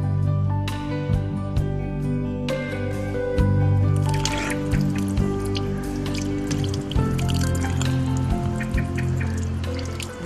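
Spring water drips steadily in a forest reserve, a scatter of small close drops falling over a constant low hum.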